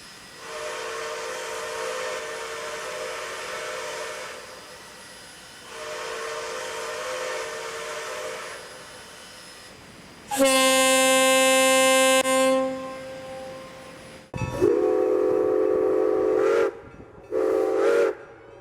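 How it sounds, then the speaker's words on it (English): A Santa Fe six-chime train whistle on a K&L Trainz Milwaukee Road S-3 model locomotive sounds in several long, loud blasts with pauses between, its chord tones steady and sustained. "V2 has the current Santa Fe 6-chime with the air horn as an alternative whistle."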